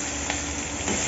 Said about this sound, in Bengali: এই মাছ মানে ভাজা খাবো করে একটু হলুদ আর লঙ্কা দিয়ে একটু বেশি করে ভাজা খাওয়ার জন্য একটু ভাজছি